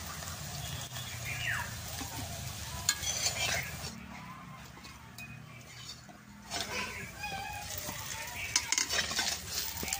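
Taro leaf fritters fry in a pan of oil with a soft, uneven sizzle, broken by stirring and the clink of a metal utensil against the pan, close and fairly quiet.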